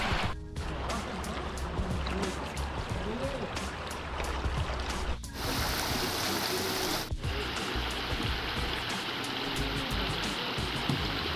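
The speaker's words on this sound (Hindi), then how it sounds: "हम जहाँ आए हैं ये पानी बह रहा है" Water flows and rushes steadily at a crowded riverside spot lit with oil lamps where someone wades in with a bucket, a continuous close wash with voices talking over it.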